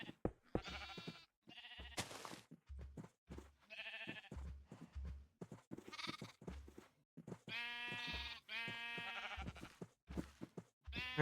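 Sheep in Minecraft bleat over and over in short, wavering calls, loud and close, with brief gaps between them.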